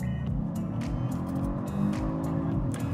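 A Genesis G70 sports sedan accelerates hard from a standstill. The engine note rises steadily and is heard close from inside, with brief gear-change dips and a strong sustained drone.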